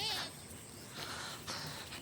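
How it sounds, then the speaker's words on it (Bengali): A goat bleats in a village setting, one wavering bleat close by at the start, with people talking over the rest. "এই যে সেই ছাগলটা"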